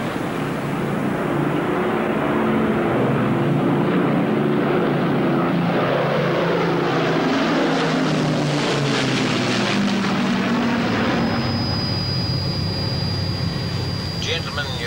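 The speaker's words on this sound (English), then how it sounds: "And now, the Battle of Britain Memorial Flight." Spitfire, Lancaster and Hurricane piston-engine aircraft of the Battle of Britain Memorial Flight pass overhead in formation, a loud, steady propeller drone that swells and shifts in pitch as they fly by, alone without talk.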